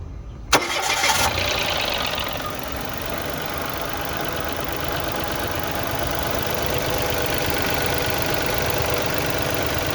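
A car engine cranks once and fires up on a DIY 50Ah LiFePO4 battery, then settles into a steady, loud idle that runs for the rest of the clip with no talking.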